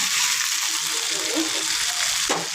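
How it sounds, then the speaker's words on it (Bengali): Onions frying in oil for a mashed bharta give a steady, close bright sizzle throughout, with a brief clatter or stir near the end and no talking. "ভর্তার জন্য পেঁয়াজ ভাজা হচ্ছে,"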